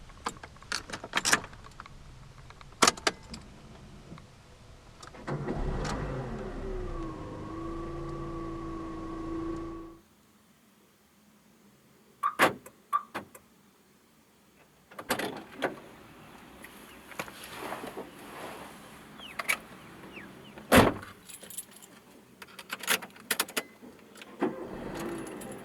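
A 2008 Proton Savvy AMT starts up with the door closed: key and mechanical clicks, a cranking engine catching into a steady idle, then a quiet pause and further clicks and thumps from the cabin.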